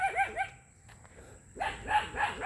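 Dog barking outdoors on a rural farm with orchards nearby, a few quick barks in a burst, a pause, then another burst of barks, moderately close and clear with no talk.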